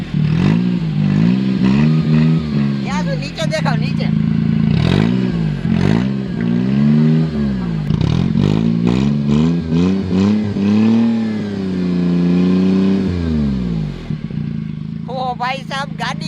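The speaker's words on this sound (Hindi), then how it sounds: "आवाज़ है वो आने लगा है हमारी गाड़ी का लैम्बोर्गिनी जैसा" A car engine roars and revs repeatedly through a throaty modified silencer, rising and falling in pitch, with someone briefly speaking between bursts.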